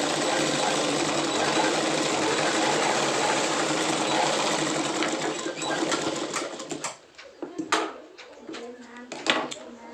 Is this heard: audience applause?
no